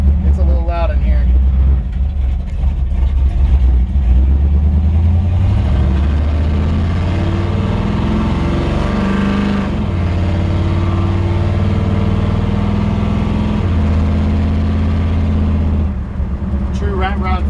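1950 Chevrolet 5-window truck engine cranking over, catching and settling into a loud, rough, steady idle heard from inside the cab, with someone talking over it.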